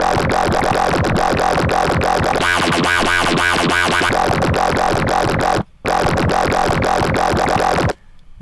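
Zomboy-style dubstep growl bass made on a Massive synthesizer: loud, rhythmic, wobbling synth pulses with a shifting filtered middle section, a brief cut-out, then an abrupt stop into silence.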